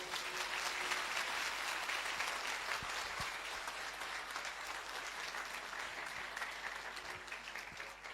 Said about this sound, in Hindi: आइए प्रभु के लिए अच्छी ताली बजाएंगे मिलके